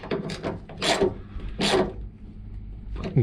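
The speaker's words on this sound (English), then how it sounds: "I tight with the ratchet tools" A ratchet tightens a bolt on a Lexus NX rear door handle, making several close, rasping clicking strokes in uneven bursts, fairly loud with no talk.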